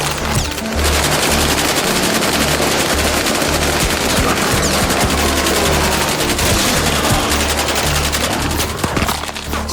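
Sustained machine gun fire from the 2024 video game Commando Ninja 2, loud and continuous for nearly ten seconds, with dense rapid bursts over a heavy low rumble and no talking.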